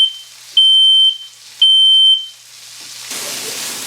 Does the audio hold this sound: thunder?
no